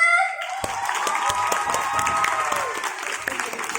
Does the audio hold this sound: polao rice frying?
no